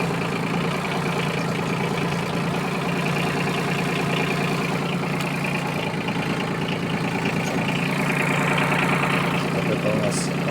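A Yanmar F155 Japanese 15 hp mini tractor fitted with a rotary tiller idles steadily nearby with an even low chugging. Someone talks over the engine throughout.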